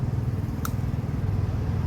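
A car's rear wiper motor on a Perodua Axia runs with a steady low mechanical hum and buzz throughout, with a single faint tick partway through; no talking.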